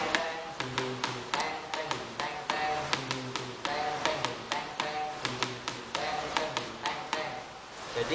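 Hadroh frame drum played in the basic Kerinci beat, a steady repeating pattern of crisp slaps and deeper resonant tones, close and moderately loud with no voices.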